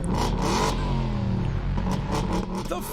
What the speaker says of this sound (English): The Ford sound like a F-150 monster Raptor truck.